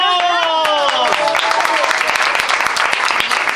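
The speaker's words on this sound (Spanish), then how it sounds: "¡Aplausos!" Studio audience applause on a variety interview show, busy close clapping running throughout while a voice with a strong rising tone is heard over it at the start.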